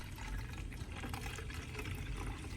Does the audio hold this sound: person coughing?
no